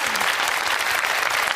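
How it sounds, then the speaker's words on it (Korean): Audience applause at a Korean TV talk show welcoming a lecturer on stage, a dense, steady wash of clapping held at an even level from start to finish with no voices over it. "여러분 뜨거운 박수 부탁드리겠습니다."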